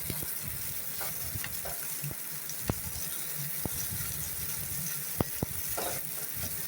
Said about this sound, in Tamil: முட்டைக்கோசை போட்டுக்கோம்ப்பா.